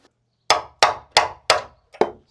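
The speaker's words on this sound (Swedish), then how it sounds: "liten hammare då." Five sharp metallic strikes from a small hammer on a nut, evenly spaced and close, each ringing briefly before the next blow.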